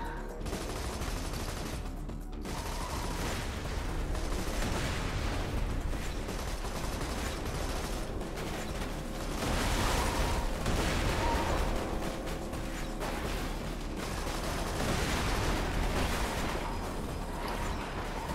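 Gunfire in the video game Borderlands 2, dense bursts of weapon shots and blasts layered over one another, loud and continuous across the whole stretch with no talking.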